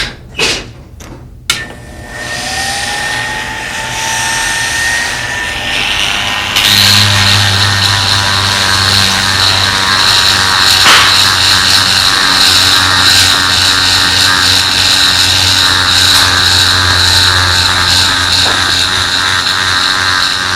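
Handheld Dremel rotary tool polishing a pistol feed ramp, a steady high-pitched whine running continuously at close range after a few sharp knocks and a brief spin-up.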